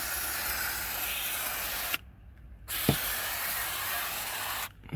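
Close, loud hiss of an aerosol spray directed onto a Mercedes Vito sliding door mechanism, running in two long continuous blasts separated by a brief pause.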